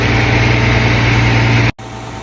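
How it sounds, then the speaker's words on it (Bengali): A concrete pump machine runs at a concrete pour, a loud steady engine drone with a strong low hum, continuous until it cuts off abruptly near the end and drops to a quieter rumble. "পাম্প মেশিন এটা দিয়ে পাম্প করা"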